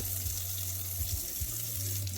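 Lukewarm water runs from a sink tap turned up to full blast, a constant rushing hiss at close range with no talk.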